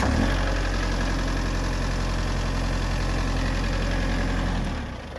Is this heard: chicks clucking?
no